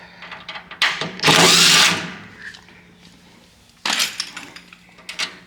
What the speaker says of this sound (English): let me pull one of these screws out.